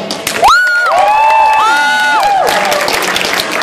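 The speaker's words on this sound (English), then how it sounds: "so we give them a big round of applause" Comic-con crowd cheers and applauds loudly, with whoops, shouts and a high sliding tone over dense clapping.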